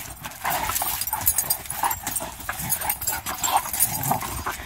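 A Pitbull and a Doberman play fight up close, with a continuous scuffle of growls, yips and whimpers and the patter of paws.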